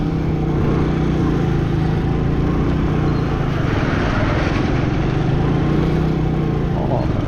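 Army vehicles, including Gypsy jeeps, rumble past on a rough snowy mountain road in Arunachal Pradesh, a loud steady low engine drone that continues throughout.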